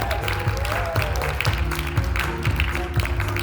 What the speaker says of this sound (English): Can you give them one last round of applause?